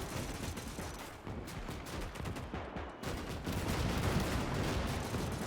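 Machine-gun fire and scattered gunshots in a Gates of Hell World War II battle around a Soviet gun fortress, a dense continuous battlefield din of overlapping bursts that grows louder toward the end.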